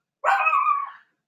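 A single loud, close dog bark, one drawn-out bark-yelp rising from quiet and cutting off cleanly, heard alone in an otherwise silent indoor room.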